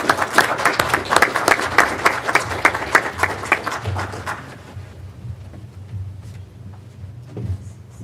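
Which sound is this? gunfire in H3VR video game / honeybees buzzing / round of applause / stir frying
round of applause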